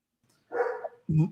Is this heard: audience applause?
no